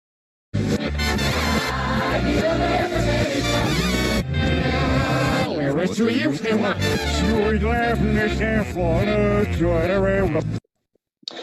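A TV theme tune played backwards, with swelling, sucking notes and warped melodic lines running continuously for about ten seconds before cutting off abruptly.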